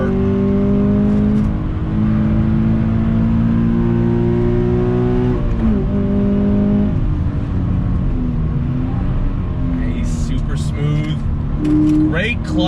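A 2020 Toyota 86 Hakone Edition accelerates hard, its engine note climbing through gears in rising sweeps, dipping at shifts, then revving again, with a faint metallic rattle near the end.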